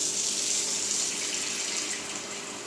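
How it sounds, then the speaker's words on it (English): Tap water runs steadily into a kitchen sink where a mixing bowl used for seitan dough is set to soak, a continuous close hiss and splash that eases slightly near the end. "Just turn that water off."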